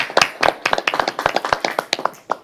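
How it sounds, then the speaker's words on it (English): Scattered clapping from a small audience at a city council meeting, a few sharp, distinct hand claps in quick irregular succession, close and fairly loud, thinning out toward the end. "The applause is for them."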